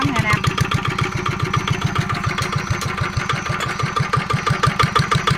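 A Zanma NS75 water-cooled single-cylinder engine runs steadily, close and loud, its rapid even firing pulses thumping throughout.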